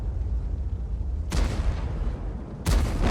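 Two loud, sharp gunshots in a multiplayer shooter video game, the first at mid-clip and the second near the end, each a sudden crack with a short tail, over a steady low rumble of game ambience.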